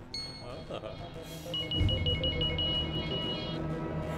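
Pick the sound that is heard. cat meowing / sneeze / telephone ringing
telephone ringing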